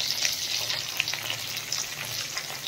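Green chilies crackle in hot tempering oil with mustard seeds, cumin, chana dal, dried red chilies and ginger, a steady close sizzle with small pops and spits throughout, no voices.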